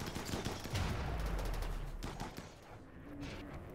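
Turrets in a Rimworld sea-ice battle fire in quick rattling bursts, dense and steady at first, then thinning into a few scattered shots, fairly quiet overall.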